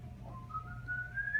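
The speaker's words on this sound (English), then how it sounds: "He's whistling." A person whistles a single rising tone that slides gradually upward, thin and fairly faint over a low background rumble, with no speech.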